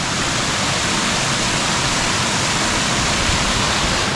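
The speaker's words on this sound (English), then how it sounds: "Pretty cool waterfall, huh?" A waterfall at Dogwood Canyon Nature Park roars as a loud, steady wash of broadband noise, close and unbroken, with no voices over it.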